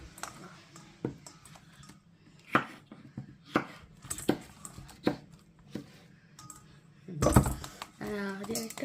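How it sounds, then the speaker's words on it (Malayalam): A knife chops vegetables on a board with a series of distinct, irregular thuds at close range, while people talk in the background and a louder clatter comes near the end. "ആദ്യമായിട്ടാട്ടോ ഒന്ന് കട്ട് ചെയ്യുന്നത്, നൈഫ് വെച്ച്."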